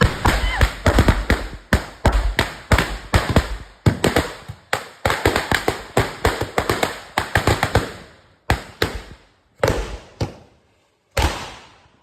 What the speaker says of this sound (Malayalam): അപ്പൊ പുലർച്ചത്തെ പടക്കം പൊട്ടിക്കൽ കഴിഞ്ഞു.